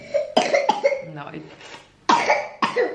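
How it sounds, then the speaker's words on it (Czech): A young child coughs in a home setting, a few sharp, close coughs in quick bursts with short pauses between them, and a brief spoken word in between. "děkujem za názornou ukázku, že máš ještě trochu i kašel"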